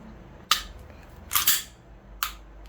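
Three sharp mechanical clicks from a SIG P320 carry pistol's trigger being pulled and reset, close and crisp against quiet room tone.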